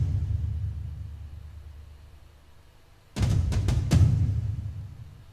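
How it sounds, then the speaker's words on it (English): A low rumbling bed gives way to a loose burst of heavy, irregular doom-style drum hits around the three-second mark, booming and dark before fading. "it actually sounds like a drummer improvising"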